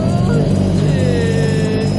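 Engine of a turbocharged Subaru BRZ firing up for the first time after a rebuild following a blown engine, a loud steady close idle rumble with a faint high whine on top.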